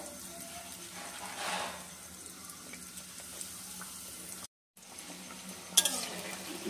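Cauliflower cutlets shallow-frying in oil over a low flame, a soft, quiet sizzle with faint stirring and a brief utensil clink near the end, after a short silent gap.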